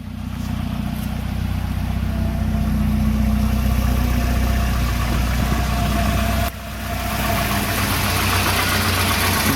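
A Volvo 240 fitted with a custom exhaust system from Knox Motorsports idles with a steady, close, low rumble that briefly drops out once before settling back into the same even tone.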